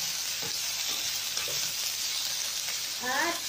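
Beef ribs sizzle and crackle steadily in a hot pan while being stirred, with a few soft scraping touches and a brief louder stir near the end; no talking.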